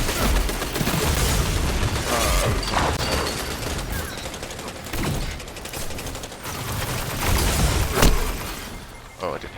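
Automatic rifle fire and combat explosions in the Destiny 2 shooter game, with dense continuous shooting and impacts throughout, rising and falling in intensity.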